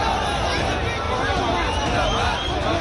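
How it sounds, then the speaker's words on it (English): Dense crowd noise from an enormous gathering at a BJP rally for leader Himanta Biswa Sharma in Assam, a steady, continuous hubbub of many voices with no pauses, loud and close throughout. "this enormous crowd for BJP leader Himanta Biswa Sharma"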